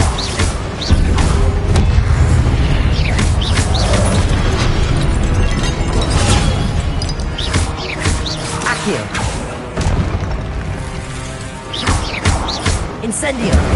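Incendio and Confringo spell explosions in a Harry Potter video game on PS5: dense, loud bursts and crashing booms that follow one another almost without pause, with a voice shouting over the barrage.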